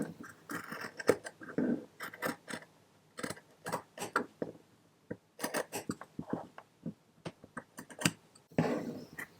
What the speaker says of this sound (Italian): Tagliare con le forbici la parte centrale.